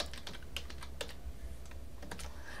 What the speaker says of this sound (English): I'm going to just start typing bedroom